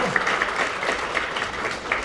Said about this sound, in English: Let's give Echo a round of applause too.